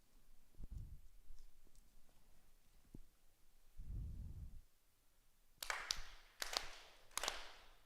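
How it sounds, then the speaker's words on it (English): Four sharp ritual hand claps at a Konko shrine service ring out near the end in a quiet hall, evenly spaced and crisp, after some soft taps and low rumbles. "4 sincere claps."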